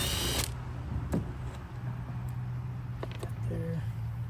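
On a Yamaha YFZ450 quad, a bolt is worked loose with a hand tool, giving a few faint metallic clicks and creaks against a low steady hum, close up, with a short squeak near the end.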